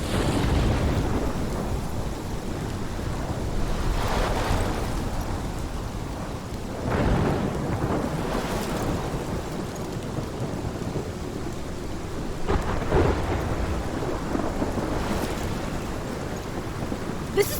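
Heavy rain pours steadily in the Life Is Strange video game while thunder rumbles repeatedly, with several deep rolling peals rising and fading over the constant downpour and no voices.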